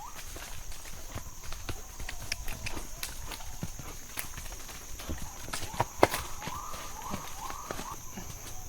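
Unshod mares walking on soft, rock-free earth along a jungle reserve patrol trail, hooves clip-clopping in a steady, muffled rhythm under ongoing background noise and faint voices.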